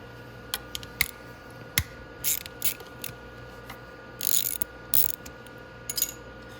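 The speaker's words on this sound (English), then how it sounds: "So I'm going to grab an 8mm ratchet." An 8mm ratchet works the drain hose bolt on the carburetor of a Venom X22GT 250cc motorcycle, giving a series of close, sharp clicking bursts in short irregular runs with no talking.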